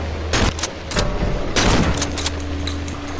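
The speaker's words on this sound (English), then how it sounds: "You gotta get past this bitch, so I'm gonna shotgun him." Shotgun blasts in the horror video game Cry of Fear: several loud, sharp booming shots fired in quick succession, about three spaced across a few seconds, each with a short ringing tail over a steady low game hum.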